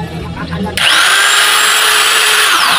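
A REAIM 1000W heavy-duty angle grinder switches on abruptly after a moment of handling noise, its loud, steady high-pitched whine close by and sustained to the end.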